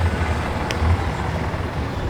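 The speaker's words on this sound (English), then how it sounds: "I love the exhaust." A custom car's exhaust at the 2022 Syracuse Nationals car show gives a steady, deep idling rumble close by, holding an even level without a break.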